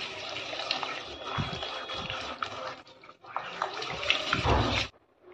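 Water pours into flour to make a thin batter, splashing in a continuous stream, pausing briefly before running again and stopping abruptly.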